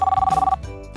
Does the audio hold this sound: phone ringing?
yes